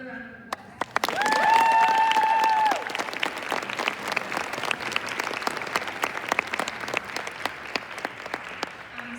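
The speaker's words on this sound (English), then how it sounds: "Another round of applause." Audience round of applause at a Veterans' Day speech, a sustained wash of many hands clapping that swells then tapers into scattered claps, with a brief tonal sound near the start.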